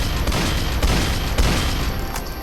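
Gunfire in the video game Dead Rails: a loud burst of repeated shots with heavy booms, a few sharp cracks standing out through the short stretch.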